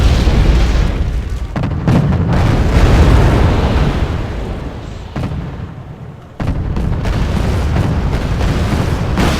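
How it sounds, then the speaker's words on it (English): Heavy artillery fire in a war strategy game, loud rolling booms and overlapping blasts in a continuous barrage, with a brief lull before the bombardment resumes at full strength; no talking. "Artillery is being fired."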